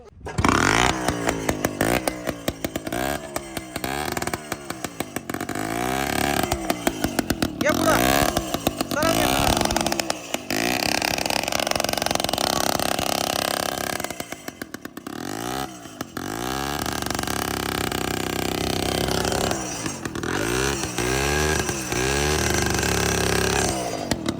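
A Shaktiman tractor engine revs hard and repeatedly, loud and close, its throttle surging and dropping in uneven bursts with voices faintly mixed in.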